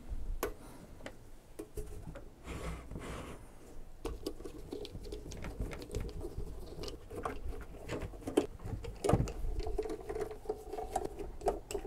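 Small screws being backed out of the rear of a Longer LK1 / Alfawise U20 3D printer case, a run of faint close clicks and ticking taps scattered over soft background hiss, with no talk.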